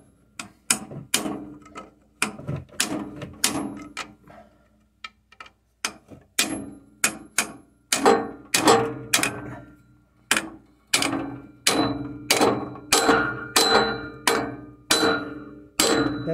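Repeated heavy blows from a 3-pound mallet on a Mercedes transfer case of a 2011 GLK 350 4Matic, worked in the car, sharp metallic strikes in uneven bursts with brief pauses, close and loud, some ringing from the exhaust.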